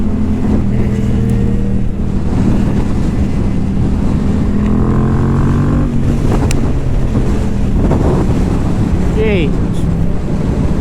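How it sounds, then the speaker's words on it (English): Strong wind buffets the microphone on a Yamaha R7 motorcycle climbing a hill road, a loud continuous roar layered over the steady engine drone, with a rider's voice briefly audible. "A bit windy."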